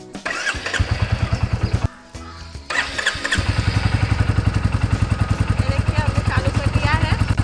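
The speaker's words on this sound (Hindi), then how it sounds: "अब हम आप लोगों को बाइक को चालू करके दिखाते हैं।" A Royal Enfield Classic motorcycle cranks briefly, stalls, then fires up and settles into a steady thumping single-cylinder idle, loud and close, with a person speaking over it.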